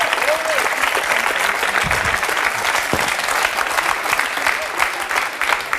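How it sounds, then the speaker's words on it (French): Applause from a studio audience on a French TV show, dense steady clapping sustained throughout at a constant loud level, with a few scattered voices and whoops mixed in. "on peut l'applaudir très fort quand même"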